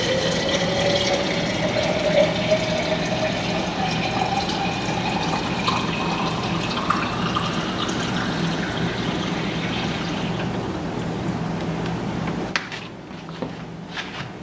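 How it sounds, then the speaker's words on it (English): Water pours steadily into a drinking water system as one quart is added, a continuous splashing fill that runs loud and unbroken before stopping abruptly near the end, followed by a few faint clicks. "I'm going to go ahead and start here with 1 quart per time to see how much it starts flowing out"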